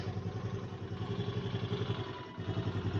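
Honda Activa scooter engine idling around 1200 to 1300 rpm, a steady low putter with a slight dip near the end, close by and alone without speech.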